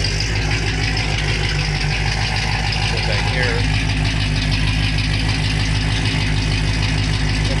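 Loud, continuous idle from a 1976 Cutlass 455 V8, a heavy, throbbing rumble with a slight rattle that holds steady throughout while someone talks over it.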